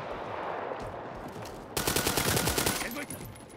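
A rapid burst of automatic gunfire from the World War 3 shooter game erupts loud and close after a stretch of steady background noise, then fades out.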